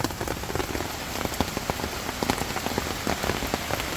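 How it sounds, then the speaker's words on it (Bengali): Heavy rain pours steadily in forested hills near Banshbaria Bilashi waterfall in Sitakunda, a dense close patter of drops on surfaces with no voices. "পাহাড়ে খুবই বৃষ্টি হচ্ছে"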